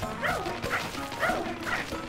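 A dog in the video game Pikmin 4 barks repeatedly in an even rhythm, four moderate barks alone over quiet game ambience.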